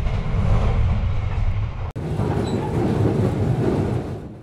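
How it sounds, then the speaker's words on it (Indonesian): The Sembrani 62 passenger train on the Jakarta to Surabaya Pasar Turi route, pulling into Cirebon station, makes a loud, steady rolling rumble with wheel clatter and a brief dropout partway through. "12:49 kereta api Sembrani 62 memasuki stasiun Cirebon lebih awal 2 menit."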